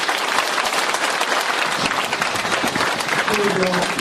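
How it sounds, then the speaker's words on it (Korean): A hall audience at a Thursday philosophy humanities forum gives a loud, steady round of applause after a singer's performance, with dense continuous clapping throughout and some voices mixed in. "박경화 선생님께 다시 한번 큰 박수 부탁드립니다"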